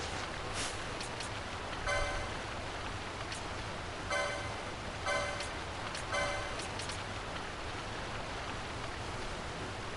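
Steady rain in the Giza Plains of Final Fantasy XII, a dense even hiss running through the whole stretch, with a few brighter bursts of game effects rising over it now and then.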